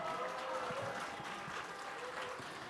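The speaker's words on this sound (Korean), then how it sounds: "다시 한번 큰 박수 부탁드립니다." Applause from a church audience for a children's dance performance at a summer Sunday school thanksgiving service, a soft, steady spread of clapping heard at a distance with a faint murmur of voices.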